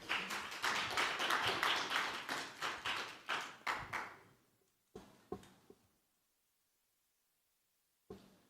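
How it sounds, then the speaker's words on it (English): A digital health forum audience claps for panel speakers, with dense applause that thins into a few scattered claps, fades out, and is followed by a last isolated clap after a silence. "So a big applause,"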